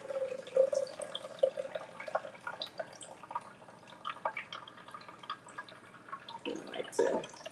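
Freshly pressed raw vegetable juice with a little celery is poured out, giving soft repeated drips and splashes that grow into a louder, fuller splash near the end.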